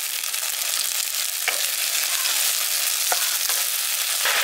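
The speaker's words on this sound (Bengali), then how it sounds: "এবার এই টমেটোটা দিয়ে দিচ্ছি।" Chopped tomato hits a pan of frying onion, ginger and garlic, giving a loud, continuous close-up sizzle with a few spatula scrapes cutting through.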